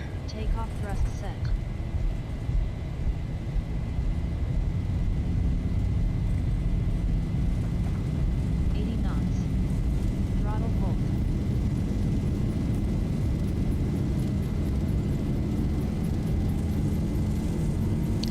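The twin engines of a Boeing 737 in a Zibo mod flight simulator roar at takeoff thrust, a loud, constant broadband rumble with a high whine above it. Brief talk and clicks sit on top of the roar.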